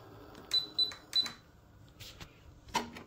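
Sharp, distinct clicks come as a bolt is turned on a JR Propo 2K servo sync setup, three crisp clicks close together followed by several softer ticks and a final click.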